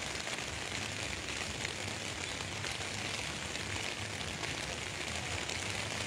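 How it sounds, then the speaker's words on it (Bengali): Steady rain pours near the Gomti river in Cumilla, a dense, even hiss of falling drops that holds at a constant level throughout with no voices. "আস্তে আস্তে বৃষ্টি বাড়তেছে।"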